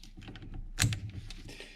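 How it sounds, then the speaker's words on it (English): A metal mount on a CenterPoint Amped 415 crossbow sling clinks against the crossbow's metal in a few light, close, quiet clicks, with one sharper clink in the middle. "you're going to have a metallic sound as this moves back and forth"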